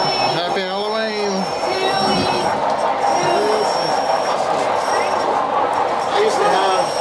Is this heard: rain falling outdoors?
no